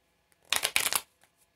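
A deck of tarot cards being shuffled by hand, a close, crisp riffle-and-slide burst of papery flicks lasting about half a second in two quick runs, then silence.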